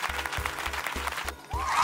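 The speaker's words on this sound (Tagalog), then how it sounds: "We can choose sound effects. Meron tayong crowd applause" Stock crowd applause effect from a video editing app's sound library, a steady wash of many hands clapping that dips briefly near the end and then swells back up, with a low rhythmic thump running underneath.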